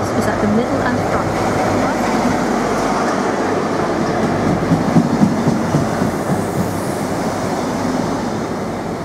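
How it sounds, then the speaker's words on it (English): A GWR Class 43 High Speed Train with eight coaches runs on the rails, giving a continuous loud rumble with rhythmic clattering wheel beats over the track for the whole stretch. "This train has 8 coaches."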